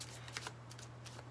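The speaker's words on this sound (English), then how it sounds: "As I'm shuffling, I'm asking them" A deck of oracle cards is shuffled by hand, producing several quick papery riffling bursts, close and soft, over a steady low hum with no voices.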